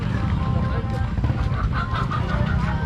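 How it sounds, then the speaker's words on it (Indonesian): Chickens clucking at a traditional market, several birds giving short, busy clucks amid a dense crowd murmur and nearby voices talking. "Ini jual ayam di sini ya."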